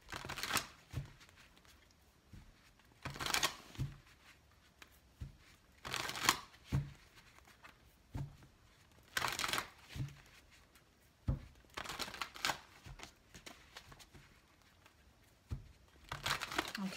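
Tarot cards are shuffled in repeated quick riffling bursts, about seven sharp crisp flurries spaced a couple of seconds apart with softer handling clicks and rustles between, close and fairly quiet.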